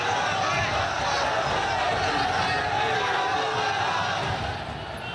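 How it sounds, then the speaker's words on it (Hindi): A large crowd outside a mosque after Friday prayers chants slogans, a dense continuous roar of many voices, loud and sustained, that fades slightly at the end. "सैकड़ों की भीड़ बाहर निकली और अल्लाहू अकबर के नारे लगाने लगी"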